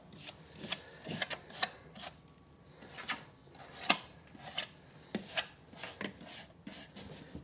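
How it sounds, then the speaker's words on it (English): A wire brush scrubs the bottom plate and bristle area of a lawn mower deck in quick, irregular scratchy strokes, close and moderately quiet, with short pauses between bursts. "I'll hit it with the wire brush around the bristles here and the bottom plate"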